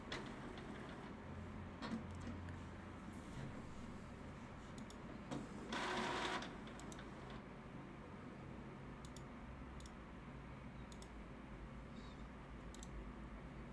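An Epson inkjet printer, powered back on during an absorber pad replacement, runs with a steady mechanical whir and scattered clicks and ticks, plus a brief louder burst of motor noise midway, with no talking.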